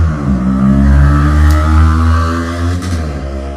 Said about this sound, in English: Really loud motorcycle just went past.